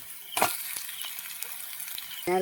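Onion, ginger, garlic, green chili and potato sizzle in hot oil, a steady crackling fry with a sharp burst as ingredients drop in and a stir at the end.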